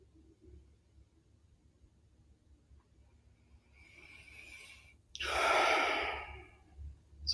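Slow, deliberate breathing during a calming exercise: a faint drawn-out inhale, a pause, then a loud close exhale of about two seconds, followed by a short sniff at the end, with no talk.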